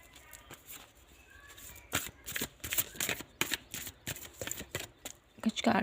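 Tarot cards being shuffled and drawn, a run of soft riffling flicks and papery slaps in quick irregular bursts that grow busier and louder toward the end, close and otherwise quiet.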